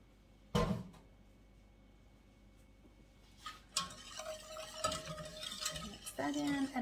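Heavy cream being stirred into a rich lemon meringue pie filling in a pan, with a sharp clank near the start and then scraping, swirling stirring that grows busier and louder toward the end, close up and without talk.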